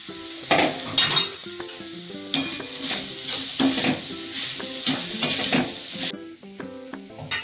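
Baby corn sizzles busily frying in a pan, with a utensil stirring and scraping against metal in steady, close bursts.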